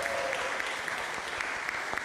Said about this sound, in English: So we want to give a big round of applause to Gavin